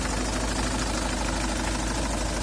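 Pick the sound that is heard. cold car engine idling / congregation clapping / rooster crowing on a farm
cold car engine idling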